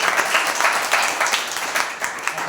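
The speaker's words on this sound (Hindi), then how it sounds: "एक जोरदार ताली बजाइए।" A congregation at a Sunday church service claps together in sustained, dense applause, loud and continuous with slight swells in rhythm.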